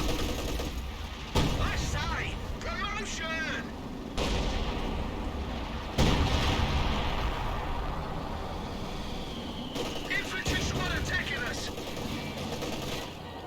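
Artillery and mortar fire booms in a war video game, several heavy blasts and bursts of gunfire at intervals, with a voice talking over the battle.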